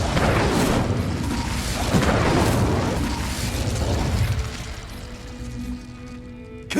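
The Incendio fire spell is cast in Hogwarts Legacy, giving a sustained roaring, crackling whoosh of flame with low rumbling booms. It stays loud for several seconds, then fades into quieter game ambience.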